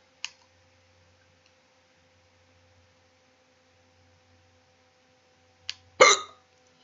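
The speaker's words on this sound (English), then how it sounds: "Having the hiccups." Two sharp hiccups, one early and one near the end, the second loud and close, separated by near silence with a faint background hum, during a Brunswick Pro Bowling session.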